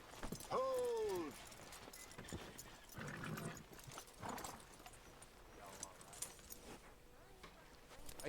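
Horse hooves clip-clop in Red Dead Redemption 2, a horse whinnies briefly near the start, and speech runs over the steady hoofbeats, which stay moderately close and fairly faint.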